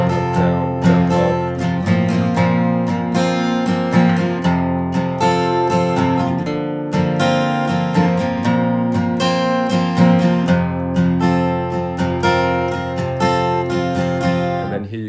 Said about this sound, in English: So the verse sounds like this.